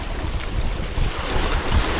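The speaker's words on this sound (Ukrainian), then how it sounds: "А зараз як хвиля піднялась велика" Big waves wash against the rocky Black Sea shore near Odesa during fishing, a steady, close surf roar mixed with heavy wind rumble against the microphone, with no talk.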